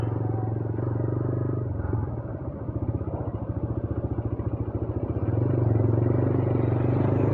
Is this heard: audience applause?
no